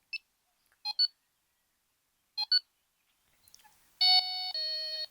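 A Delkim v2 bite alarm receiver beeps while pairing: short chirps in pairs separated by silence, then a longer, louder two-part tone sequence at the end.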